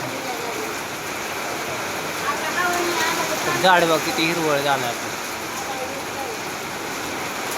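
Steady hiss of falling rain fills the background while a person speaks over it at close range.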